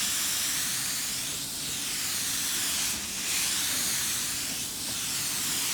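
Continuous loud hiss of a spray gun laying clear coat, with gentle swells as the gun sweeps back and forth across the panel, steady and close with no voices.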